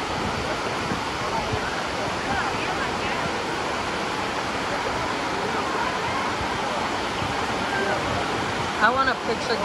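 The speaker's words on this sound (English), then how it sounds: "I want a picture getting the waterfall." Dunn's River Falls in Jamaica roars as a steady, close, broadband rush of cascading water, continuous throughout, with a brief burst of voices near the end.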